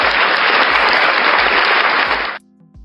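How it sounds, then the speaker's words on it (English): A crowd breaks into loud, dense applause, sustained clapping that fills the room for a couple of seconds before cutting off abruptly into quiet. "Let's get some applause for that."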